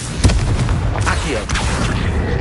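A Confringo blasting spell in Hogwarts Legacy goes off as a loud, close boom with a rumbling tail, followed by further bursts and crackling impacts over constant game noise.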